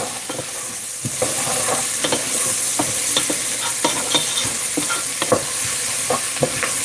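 Chopped onion sizzles in butter in a pan while a utensil stirs it, producing repeated scraping clacks over a constant bright frying hiss, close and moderately loud with no voices.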